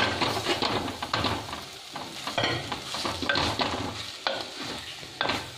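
Mushroom and drumstick leaves curry cooking in a pan, with a continuous soft sizzle and bubbling under intermittent scraping and clicking stirring sounds, close and moderately quiet.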